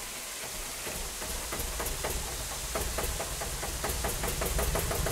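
A generator in the video game The Clearing, in an abandoned cabin, keeps up a steady mid-pitched engine drone with a knocking rattle. It grows slightly louder over a few seconds and runs alone without any talk.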